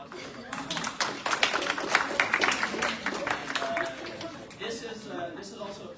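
Applause rises at a senate meeting, a burst of many hands clapping that swells, then tapers off over a few seconds while a voice carries on in the room.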